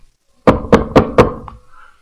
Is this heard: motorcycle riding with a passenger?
no